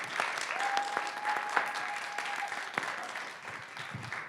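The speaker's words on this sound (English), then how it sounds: "So why don't we one more time, just another round of applause for our guest of honor, Tommy Mack." Applause from an audience for a guest of honor, a moderately loud stretch of clapping with a few sharper individual claps standing out and a thin sustained tone beneath it early on.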